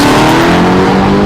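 Corvette C6 with a 6.2 litre V8 engine revving loudly and close by, a steady rumbling drone with rising harmonic tones across a short burst.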